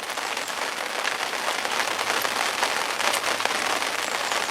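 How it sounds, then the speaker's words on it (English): Heavy rain lashes down on a carp-fishing bivvy tent, a steady dense hiss of drops drumming on the fabric, loud and continuous throughout with no voices. "as you can probably hear on the bivvy, it's absolutely lashing it down"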